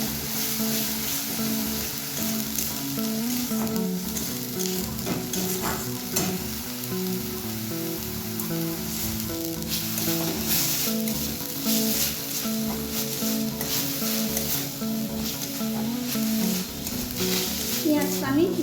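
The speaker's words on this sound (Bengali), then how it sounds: "পেঁয়াজটা আমি মিনিট 2-এর মতন এইভাবে ভেজে নিয়েছি।" Ground onion paste frying loudly in a pan, a dense continuous sizzle with frequent stirring scrapes and clatters throughout, close and steady with no pauses.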